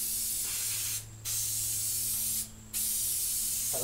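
A can of spray-on contact cement hisses onto new carpet padding in three close, continuous bursts split by two brief pauses, over a low steady hum.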